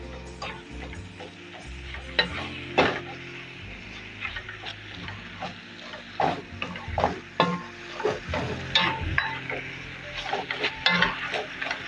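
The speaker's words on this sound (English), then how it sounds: "Remember, in every portion of it, I have to stir." Greens frying in a pot, stirred with repeated scraping, knocking strokes over a soft steady sizzle, close and fairly quiet.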